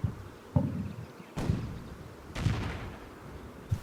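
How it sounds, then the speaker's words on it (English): Infantry gun firing a shell at infantry in the Combat Mission war game: several sharp booming reports spaced a second or so apart, with rumbling tails over a low battlefield din. "the infantry gun fires a shell over here at infantry"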